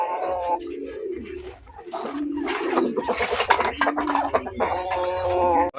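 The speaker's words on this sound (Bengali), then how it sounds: "অস্ট্রেলিয়ান ঘুঘু মাশাআল্লাহ দেখেন" Australian doves at a pigeon and poultry farm give soft, repeated low coos close by, overlapping with someone talking throughout.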